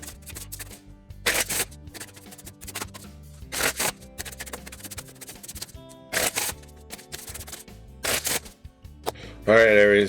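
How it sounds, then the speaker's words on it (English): Deck of cards being shuffled in short bursts of riffling, four or five quick crisp shuffles spaced a couple of seconds apart over quiet background music. "We're gonna shuffle this deck up, see what we can do."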